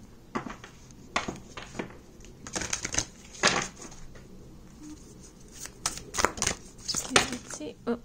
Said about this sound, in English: Again, too many cards. I'm gonna shuffle.